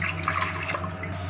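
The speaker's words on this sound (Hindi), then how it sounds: "2 ग्लास पानी डालेंगे" Two glasses of water poured into a pressure cooker while making a beef, potato and cauliflower curry, a steady close splashing gush that runs alone throughout.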